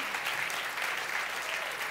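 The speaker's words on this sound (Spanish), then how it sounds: "No, si usted le va a dar, ese el aplauso." A crowd applauding, dense steady clapping that fills the whole moment.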